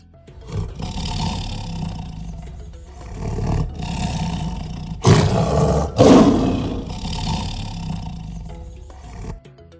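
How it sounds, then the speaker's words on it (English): Wild elephant calls sound as a series of deep, roaring bellows, with a few sustained rumbles that build to two loud, harsh bursts in the middle before trailing off. No voices are heard. "elephant"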